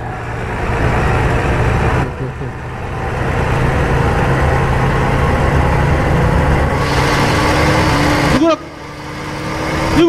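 A Scania 112 truck hauling 22 tonnes labours uphill, its diesel engine droning loud and steady close by, with a couple of brief shifts in tone and a short squeak near the end.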